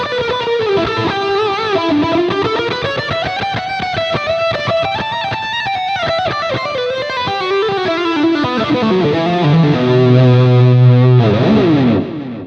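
Distorted electric guitar with a 12 dB boost, played through a NUX B-8 wireless system: a fast, continuous run of picked lead notes climbing and falling, then a held bend and slides at the end, loud and close, alone.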